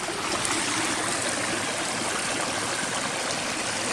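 Clear mountain stream water rushes steadily beside a backpacking trail, a loud, even broadband wash of flowing water with no breaks over the whole span.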